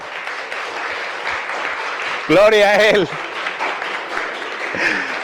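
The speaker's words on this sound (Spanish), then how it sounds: "Le una ofrenda de palmas al Señor." A church congregation applauds during a service, steady broadband clapping throughout while a voice calls out loudly over it for a moment.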